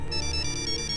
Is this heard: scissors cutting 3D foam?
no